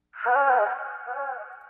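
A single sung vocal phrase drenched in a sweeping filter effect, its tone gliding and washing over about a second and a half, heard alone.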